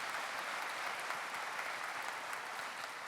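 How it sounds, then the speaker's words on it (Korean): An audience applauds at a 2024 appointment ceremony for newly commissioned police lieutenants and inspectors: steady, even crowd clapping that sounds fairly distant and soft and carries on without a break. "박수 한번 주시죠"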